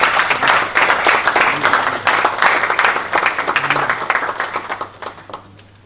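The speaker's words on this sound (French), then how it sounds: "je vous demande d'applaudir s'il vous plaît" Audience applause at an evening conference in Congo on orphaned children and children accused of witchcraft, a dense patter of clapping that holds steady for several seconds, then thins and fades toward the end.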